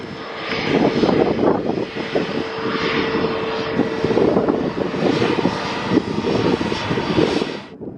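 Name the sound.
Ryanair Boeing 737 jet aircraft engine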